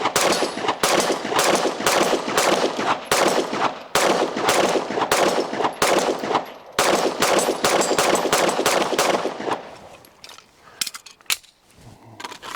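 Gen6 Glock 17 pistol firing a long run of loud, closely spaced gunshots, sharp cracks repeating for about ten seconds before tapering into a few scattered shots.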